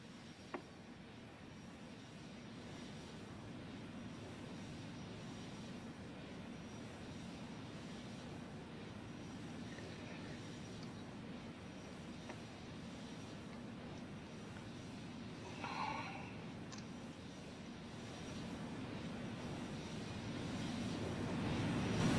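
Engines of an Antonov An-124 transport aircraft in the Roblox game Aeronautica make a steady, loud broadband roar and rumble that runs unbroken through the whole stretch, with only a brief flicker partway in and no one talking.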